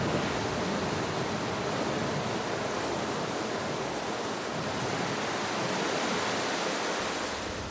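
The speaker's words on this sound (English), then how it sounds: "As winter approaches, dark clouds bring life-giving rain." Steady heavy rain falls across a chimpanzee habitat under dark winter clouds, a continuous, loud, even hiss with no pauses or other sounds on top.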